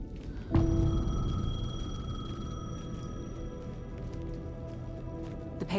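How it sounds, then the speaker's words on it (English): A payphone rings in the Alan Wake 2 video game, a sharp electronic bell tone starting abruptly and then sustaining with a long ringing decay over a low ambient hum. "The payphone was ringing."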